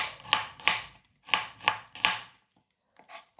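Garlic for pork sisig being chopped with a knife on a board: crisp, close knocks, two quick strokes, a short gap, then three more, with faint softer taps at the end.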